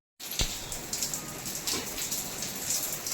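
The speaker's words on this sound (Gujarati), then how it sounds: "મસ્ત વરસાદ આવે છે" Heavy rain pours steadily outdoors in a Gujarati village, a dense, even hiss of drops on surfaces with a few sharper splashes, close and continuous after a brief silent start.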